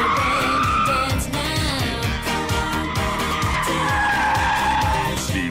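A car spins sideways, tires skidding and squealing in repeated rhythmic bursts over a loud revving engine, close by and continuous throughout.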